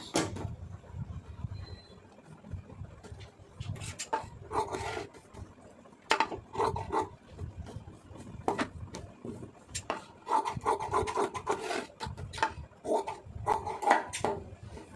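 Scissors cut through blouse fabric in a run of close, scattered snips and rustles, some louder crunching strokes among soft handling noise, with no talking.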